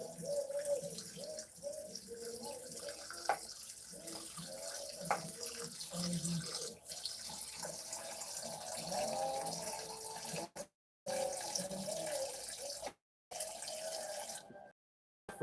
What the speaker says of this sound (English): Fresh water.